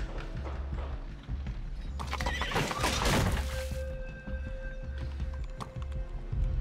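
A horse whinnies in a Sherlock Holmes video game, a loud burst in the middle over a steady low game ambience with hoof clops before and after.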